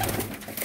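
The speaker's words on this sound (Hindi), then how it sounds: "ये देखें ज़रा माशाल्लाह कैसे केजेस में कबूतर है, फिट एंड फाइन कबूतर" Caged young-breed pigeons coo softly in a steady low murmur, close by, with no talk over it.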